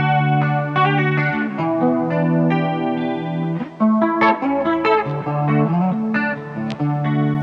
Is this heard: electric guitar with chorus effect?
yes